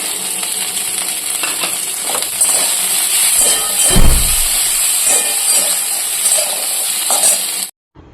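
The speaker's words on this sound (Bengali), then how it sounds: "সবজিগুলো প্রয়োজন মতো ভাজা হয়ে গেছে" Capsicum, tomato and green chilli frying in a pan, with steady sizzling and hiss broken by the clinks and scrapes of stirring, loudest around the middle, close and without talk, then cut off abruptly at the end.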